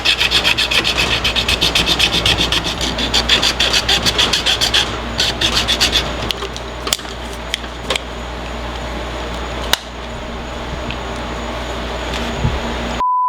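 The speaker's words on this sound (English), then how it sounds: "now is just sandpaper the rough edge a little bit" Sandpaper is rubbed steadily back and forth across the rough cut edge of a plastic part, giving a rapid rasping rhythm. It thins into sparse scrapes and small clicks near the end.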